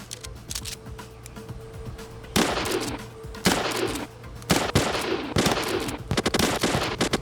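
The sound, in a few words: shotgun fired to scare polar bears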